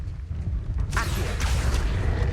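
The Accio summoning spell cast in the Hogwarts Legacy game: a sudden bright magical burst and swish cutting through a low ambient rumble, followed by a softer shimmering tail.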